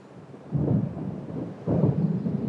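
Thunder from an approaching storm in Alan Wake Remastered, two deep rumbling rolls swelling one after another over a low background, distant yet full, with no voices.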